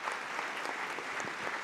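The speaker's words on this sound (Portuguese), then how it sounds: "uma salva de palmas aos nossos homenageados que estão recebendo o certificado" Steady applause fills a solemn ceremonial session as honorees receive their certificates; dense, even clapping from a seated crowd, moderately distant and continuous throughout.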